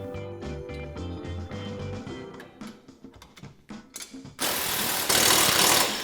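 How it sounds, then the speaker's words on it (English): Rapid ratchet clicking as bolts are worked loose from the bearing carrier on a Polaris RZR trailing arm, repeated bursts in the first seconds, then a loud sustained broadband whir near the end, with no talk. "Remove the 4 bolts holding the bearing carrier to the trailing arm."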